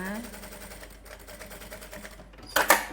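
A sewing machine stitches the hem of a slit shirt in a rapid mechanical run, ending with a sharp louder burst, while someone talks over it.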